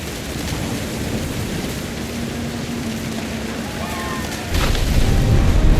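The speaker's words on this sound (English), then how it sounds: "Thunder sounded much too close and full of angry power." Thunder rumbles through a storm in the video game What Remains of Edith Finch, a loud continuous roar over rain that swells into a heavier, deeper boom near the end.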